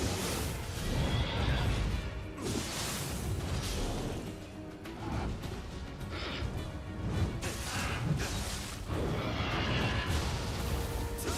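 A horse neighs and whinnies in the video game Nioh 2, loud and repeated over dense combat noise with crashes and impacts throughout.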